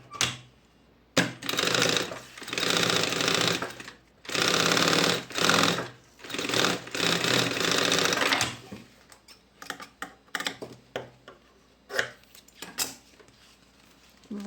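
A sewing machine stitches bias binding onto a lunch bag in loud bursts of rapid mechanical whirring separated by short pauses, then slower, lighter clicks and taps as the fabric is handled.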